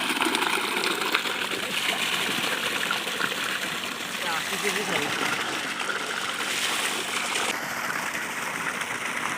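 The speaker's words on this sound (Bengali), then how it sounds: "বহুক্ষণ পরে বড় ভাই পানি উঠাতে সক্ষম হয়েছেন" Water gushes steadily from a hand pump into a bucket, a dense continuous rush that stays loud for the whole stretch, with faint voices in the background.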